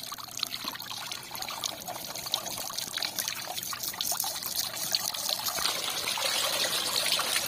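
A steady stream of water pouring and splashing from a homemade water pump driven by an AC motor, continuous and close, growing slightly stronger toward the end.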